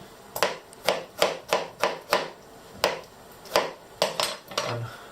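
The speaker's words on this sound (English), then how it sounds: "And it's time to cut the tomato." A knife cuts through a tomato on a wooden board for a Catalan monkfish stew, about a dozen crisp, rhythmic chopping taps heard close and alone.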